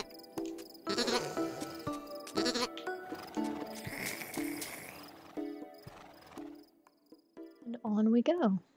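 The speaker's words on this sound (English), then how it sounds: "No, just the sheep." Sheep in the video game Carto bleat several times over soft ambient game music, with a close, loud wavering bleat standing out at the end.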